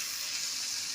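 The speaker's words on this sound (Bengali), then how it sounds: "ভিতরের অংশটার সাথে মশলার সাথে ভালো মতো করে কষে নেব" Drumstick (moringa) pulp sizzling with spices in a pan, a steady, close frying hiss with a bubbly, watery texture running unbroken throughout, with no voices.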